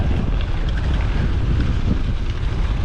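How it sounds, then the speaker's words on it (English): Strong wind buffets the microphone of a cyclist on a long, hilly ride, a constant loud low roar and rumble with no pauses and no talk. "this wind is brutal"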